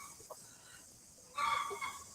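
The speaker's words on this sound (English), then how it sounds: "That chicken's really freaking out now." An agitated chicken clucks in short, loud, excited bursts near the end, following quieter scattered fowl calls at a moderate distance.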